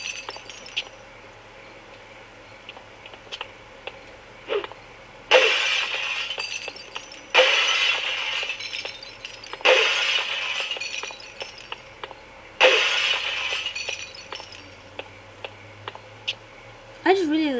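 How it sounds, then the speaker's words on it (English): Glass panes shatter repeatedly in the THAW skateboarding video game, four loud crashing bursts at roughly even intervals with smaller clinks and ticks between them, over a low game soundtrack. "I just really love breaking glass. On games, not where I live."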